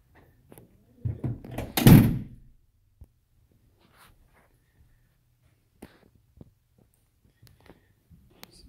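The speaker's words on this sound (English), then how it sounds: "Goes out this stairway to the common back doors" Common back door of a commercial plaza building opening and closing, one solid thunk with rattling around the second mark, then a quiet room with a few faint knocks and clicks.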